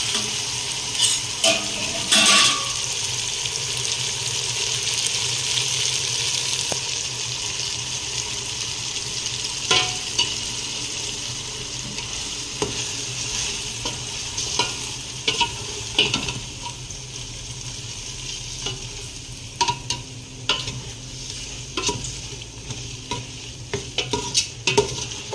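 Soya tempeh stir-fried in a pan for a white biryani, a steady sizzle broken by the scrape and clack of a spoon against the pan, up close with no talking.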